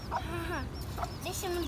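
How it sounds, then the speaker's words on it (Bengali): Native country hens clucking close by in a yard with chicks, a few short cackling bursts with a broken, uneven rhythm over steady low background noise. "দেশি মুরগিটা"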